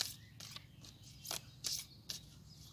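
A deck of playing cards being shuffled, close and fairly quiet, in a few short riffling bursts separated by brief pauses, with no talking.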